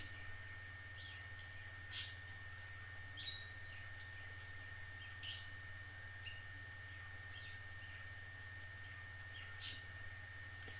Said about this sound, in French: vous devez sûrement entendre mes oiseaux